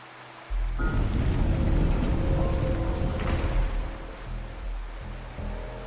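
A waterfall on Mt. Firmament in the video game Wuthering Waves gives a steady, full rushing roar of falling water that fills the whole stretch with no voices.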